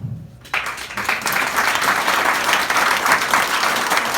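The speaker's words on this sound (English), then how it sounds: "another round of applause to all those people who serve or have served" Applause from an audience at a reception honoring people who serve or have served, a sudden burst of many hands clapping that holds loud and dense throughout.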